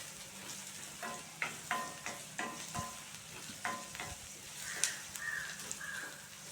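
Finely chopped small shallots fry in oil for a squid gravy, a steady sizzle broken by repeated scraping stirs of a spoon against the pan, close and clear, with a faint bird call in the background.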